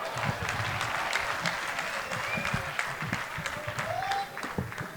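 Applause for the comedian Pirate fills a live comedy show, a steady dense wash of many hands clapping from a large audience throughout, with no break in the sound.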